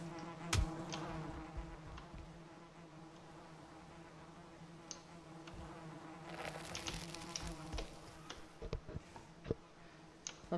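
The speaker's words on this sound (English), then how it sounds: "I found what I think is a beehive." Insect buzzing from a beehive in the survival game Valheim, a steady droning hum that carries throughout, with louder close passes and clicks near the end and no talking.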